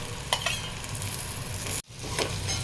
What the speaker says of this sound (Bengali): আলু দিয়ে দিচ্ছি।